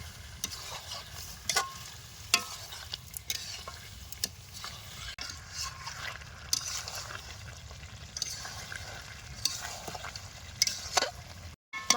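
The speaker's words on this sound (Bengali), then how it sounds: "এবার ভালো করে কষিয়ে নেব।" Chicken pieces with whipped yogurt and spices being stirred and sautéed in a pan for restaurant-style chicken biryani, giving a steady soft sizzle with repeated scraping stir strokes throughout, close and fairly quiet.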